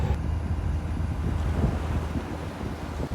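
A sailboat pulls out of Kaminoseki Harbor on Japan's Inland Sea, with steady, loud wind buffeting the microphone over a low rumble of water and hull.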